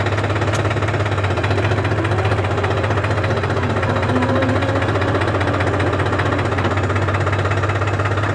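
A New Holland 551 tractor engine runs steadily close by, a loud continuous diesel throb with a strong low hum and rattling, knocking texture throughout.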